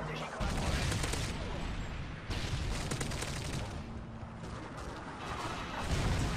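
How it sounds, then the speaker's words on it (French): In Call of Duty MW3, an automatic sentry turret fires sustained rapid bursts of gunfire, dense and continuous across several seconds amid other game battle noise. "j'ai une tourelle automatique"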